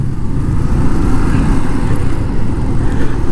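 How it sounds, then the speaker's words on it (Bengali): Dense street traffic along Pokhara's Lakeside road, dominated by motorbikes, with a steady low engine rumble and hum of passing vehicles throughout, no clear single pass-by standing out. "বাইক আর বাইক, রাস্তা ভর্তি খালি বাইক আর বাইক।"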